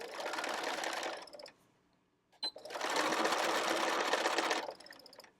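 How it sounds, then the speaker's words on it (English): Sewing machine stitching the side seams of a canvas tote bag with a 1/4 inch seam allowance: two steady runs of fast mechanical whirring separated by a brief pause, with a small click as it restarts. "going to sew the side seams, both sides, and then we're going to refold the corner and we're going to sew across the bottom"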